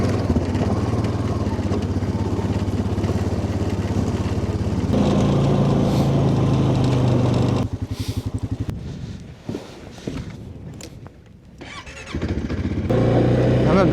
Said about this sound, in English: that's a lot of weight to pull up that steep switchback road with my four-wheeler, but we're gonna give it a try